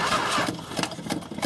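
A 1969 Imperial car engine with no choke cranks over in a steady run of rhythmic pulses, close and fairly loud, without catching to a full idle.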